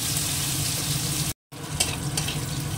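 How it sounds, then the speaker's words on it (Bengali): Chopped onions with cumin frying in a pan, a steady close sizzling hiss with a brief gap of silence and a light stir afterward. "একটু পেঁয়াজটা ভেজে নিই।"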